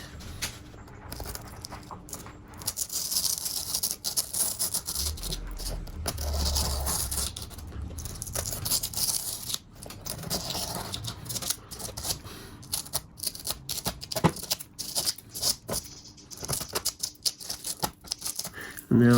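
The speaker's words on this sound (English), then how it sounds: "I'm going to need to cut out this section of foam so that the piece of the track base will go in there" Foam for a model train track base is cut and torn out, giving a busy run of scratchy, crackling scrapes and snips at close range, with brief dull thumps.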